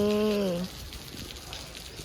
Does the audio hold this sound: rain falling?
yes